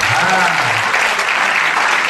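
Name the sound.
applause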